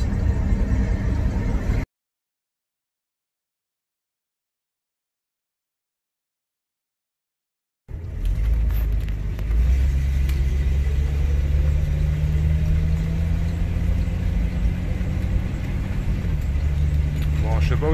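A 1980 Dodge Sportsman B300 camper van on the road gives off a steady, close engine rumble and road noise. The sound cuts out completely for several seconds, then comes back with a rising and falling whine over the drone.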